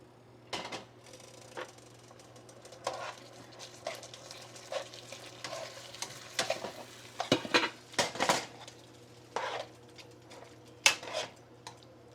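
Zucchini spaghetti is tossed in peanut sauce with utensils, giving scattered clinks and scrapes against a dish. Soft stirring noises sit under a steady low hum, and the sharp clatters come through close in the quiet.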